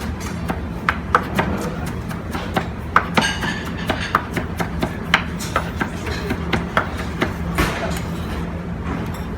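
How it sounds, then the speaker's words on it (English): Romaine lettuce being chopped finely with a knife on a board, a steady run of sharp, close tapping strokes in an irregular rhythm, with faint kitchen background and no talking. "And we have some romaine lettuce, and you chop them up real fine."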